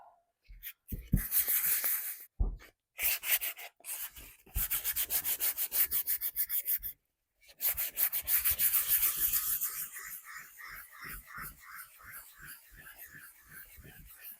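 Hand sanding a painted thrift store bowl to add wear marks, close scratchy rubbing strokes in repeated bursts with brief pauses, quieter at the end.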